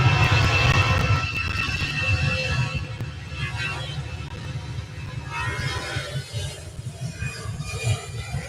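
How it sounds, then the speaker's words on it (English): An airplane taking off at Manchester Airport, a broad roaring engine rumble loudest at the start and slowly fading as it climbs away, heard from a distance with a steady whooshing texture. "Lovely takeoff that was."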